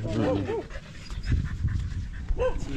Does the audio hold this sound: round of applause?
no